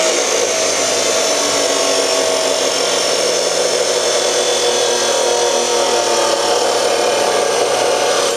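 A power tool grinds steadily through metal stock for a Yamaha G16 golf cart build, a harsh continuous cutting sound lasting the whole stretch at close range with no talking.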